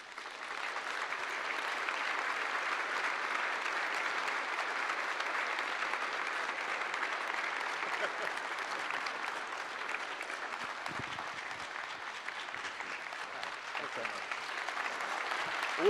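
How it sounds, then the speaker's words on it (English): A sustained round of audience applause fills the room at the WAF award ceremony in London, broad and even clapping that carries on unbroken for about sixteen seconds. "Warm round of applause."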